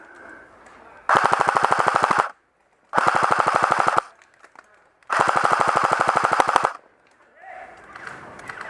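Three long bursts of rapid-fire airsoft guns during a prison camp skirmish game, each a loud sustained rattle of shots separated by short pauses, with faint voices between bursts.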